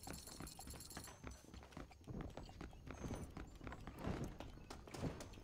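Horse hooves clip-clopping in Red Dead Redemption, a steady walking rhythm of soft thuds and clops close up, moderately loud and continuing throughout with no talk over it.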